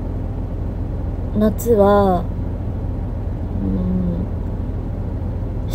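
Inside a car during a solo drive, a steady low road and engine rumble runs underneath. Someone speaks briefly in Japanese over it.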